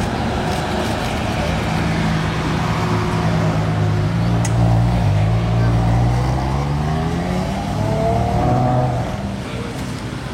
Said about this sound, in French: Meilleur V12 ça les amis